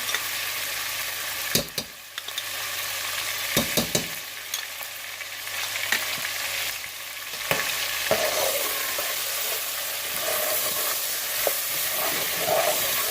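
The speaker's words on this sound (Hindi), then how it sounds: "ये अब हम इसमें लहसुन अदरक का पेस्ट जो है वो भी शामिल कर देंगे।" Garlic-ginger paste fries in a pot for a chicken aloo pulao, with a loud, continuous sizzle broken by scraping stirs close by and no voices.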